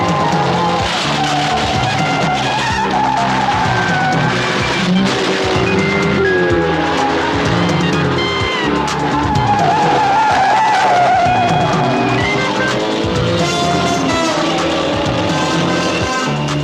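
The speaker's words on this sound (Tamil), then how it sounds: "கீர்த்தி, வண்டியை எங்கேயாவது ஓரமா கொண்டு போ." Tyre skids and squeals as a car speeds away in a Tamil comedy film scene, loud and continuous over busy music and effects throughout.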